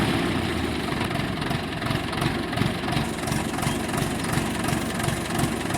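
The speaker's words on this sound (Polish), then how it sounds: "Widzisz, jak odpala za pierwszym strzałem." A tractor engine in the Farming Simulator 22 video game idles steadily, its low, even, throbbing diesel chug continuing without pause, close and loud with no voices.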